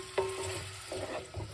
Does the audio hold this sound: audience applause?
no